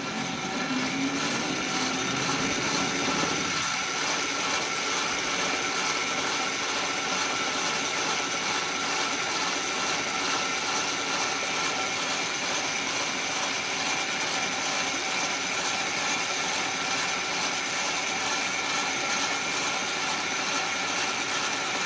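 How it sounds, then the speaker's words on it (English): A manual lathe runs steadily while its tool chamfers the end of a drawbar, giving a continuous mechanical whir with a faint ticking, gear-like texture that stays even and close throughout. "Now I'll start the lathe, and then I'll just advance the Z direction to chamfer this"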